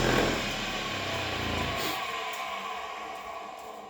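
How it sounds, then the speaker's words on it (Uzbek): An electric motor wired to a contactor with start and stop push buttons winds down after being switched off, its hum fading from loud to a quieter, steadier whir over a few seconds. "Motorimiz aylanishdan to'xtadi."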